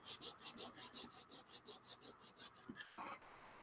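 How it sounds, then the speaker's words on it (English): Rapid rhythmic sanding strokes, about fifteen quick rasping passes in a steady beat, close by, slowing briefly before a final scrape. "try the new UMP sanding sheets out here"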